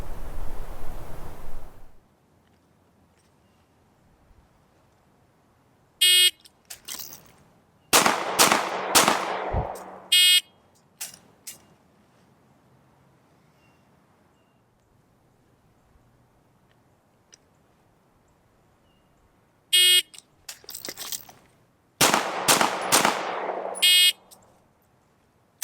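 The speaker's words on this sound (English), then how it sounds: "on the signal to fire, I have to draw and fire 2 shots to the body and 1 shot to the head" Handgun shots from a Smith & Wesson 5904 pistol in a law-enforcement qualification failure drill: two tight clusters of sharp, loud reports, each preceded by a short electronic start beep, separated by quiet pauses.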